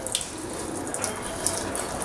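Hot water runs steadily from the tap of a cheap instant electric water heater, a continuous hissing flow with faint splashing and no voices.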